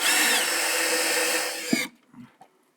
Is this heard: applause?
no